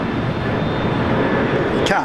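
Airbus A350 jet airliner at Brisbane Airport, a loud continuous engine roar filling the whole stretch, with a faint voice near the end.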